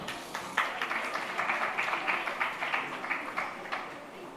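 An audience applauds an honoree on stage at an astrology gathering: a dense, steady clatter of many clapping hands that fades slightly toward the end, with no speech over it.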